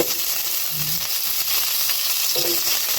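Onion and pepper sauté in hot oil for pork sinigang, a continuous close sizzle and crackle with occasional soft stirring sounds, no voices.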